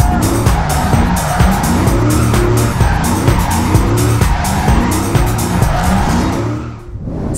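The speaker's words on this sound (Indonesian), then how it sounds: "walaupun Ostalowski itu memiliki kekurangan, tapi dia bisa tetap nyetir ngedrift loh guys" A car drifting with sustained, loud tire squeal and a revving engine, continuous and close for most of the stretch before fading out near the end.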